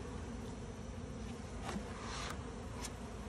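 Honeybees buzzing steadily at a hive, a faint continuous drone near banana tree leaves, with a few brief louder passes as individual bees fly close.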